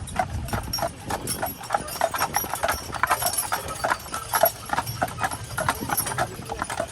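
Steady clip-clop of several horses' hooves walking on a hard surface, rhythmic and fairly close, with no talking.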